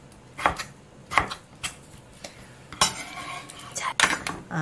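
A kitchen knife cuts pickled radish (danmuji) in half for kimbap, giving a few sharp, separate knocks against a cutting board, close and clear, with no talk.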